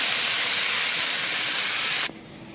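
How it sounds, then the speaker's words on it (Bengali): A loud, dense hissing sizzle of potatoes, okra, tomato, onion and green chilli frying with panch phoron in hot oil. It holds steady for about two seconds, then drops abruptly to a quieter crackle. "আলু ঢেঁড়স টমেটো পাঁচফোড়ন দিয়ে ভাজছি পেঁয়াজ কাঁচা লঙ্কা"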